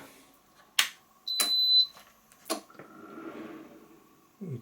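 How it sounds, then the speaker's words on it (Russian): A sharp electronic beep sounds once as an AOBOSI induction cooktop powers on, followed by a brief whir of fans and a few soft clicks in a quiet room. "Пикнуло, и вентиляторы сработали на короткое время."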